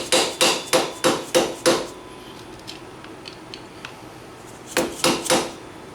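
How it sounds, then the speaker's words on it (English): A hammer taps a socket to straighten the locking tabs on a Yamaha Banshee axle bearing nut: six sharp, evenly spaced metallic strikes, a pause with faint clinks, then three more close, loud hits. "you can just take a socket and a real hammer, give it a tap, and it'll straighten them right out"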